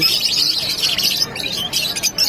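Chirping from a group of African lovebirds at a pet bird market, a dense, continuous chatter of small high calls that stays steady and fairly loud throughout, with no talk over it.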